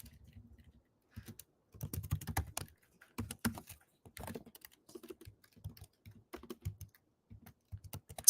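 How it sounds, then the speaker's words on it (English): Clacky acoustic typing on a computer keyboard, close and crisp, in irregular bursts of rapid keystrokes separated by short pauses, with no voices. "We got some acoustic typing going on here."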